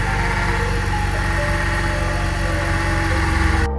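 A BMW E30 engine idles steadily and loudly up close, with a persistent whining howl from a worn power steering pump over the rhythmic engine pulse.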